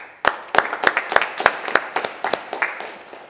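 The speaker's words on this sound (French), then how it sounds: "On peut l'applaudir." Small group applause for a visiting French national MMA team, a few people clapping in a brisk, slightly uneven rhythm of distinct close claps that gradually soften.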